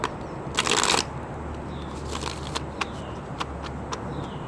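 Tarot cards being shuffled close by, a loud riffling burst near the start followed by softer sliding and sharp intermittent flicks over a steady background hiss, with no talk.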